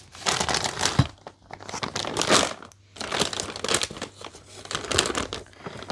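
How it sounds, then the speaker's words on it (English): Skeins of yarn in plastic packaging are handled while sorting a yarn cupboard, producing close, loud bursts of crinkling and rustling in several waves with short pauses between them. "Bit of rustling now, sorry."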